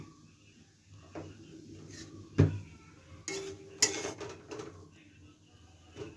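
Fried potatoes for potato chops are lifted out of a pan on a gas stove, with scattered metal utensil clinks and clatters, quiet and close, and a little talk.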